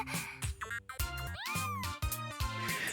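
A calico kitten in the visual novel game Fate/Hollow Ataraxia meows repeatedly, close and clear, several plaintive mews in a row over a soft musical background.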